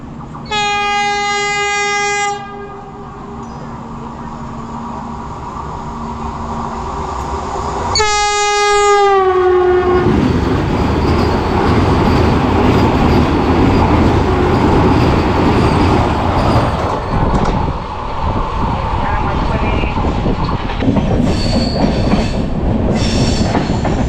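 A Vande Bharat train on the Konkan Railway passes a train halted for a crossing at Veravali, sounding two long loud horn blasts, then a sustained close roar of wheels and rattling carriages.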